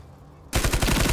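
An MK46 machine gun fires in the video game Ironsight: after half a second of quiet, a loud rapid burst of unsuppressed shots rattles in quick succession to the end.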